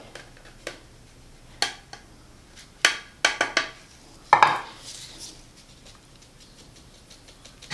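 Honey cake batter being mixed in a bowl, with scattered clinks and taps of a utensil against the bowl, a quick burst of knocks midway, then quieter scraping.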